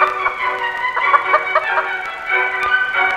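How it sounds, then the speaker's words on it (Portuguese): Several hens cluck and murmur in short bursts close by, with a brief bright call rising over the flock. "Galinha, galos domésticos."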